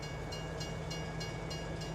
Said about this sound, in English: I'll just reverse the train back a bit